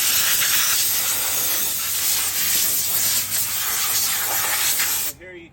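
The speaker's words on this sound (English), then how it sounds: "So you would want to blow it off with the air hose." Compressed air from an air compressor hose blasts dirt off an outdoor bronze sculpture in a loud, continuous close hiss that cuts off abruptly at the end.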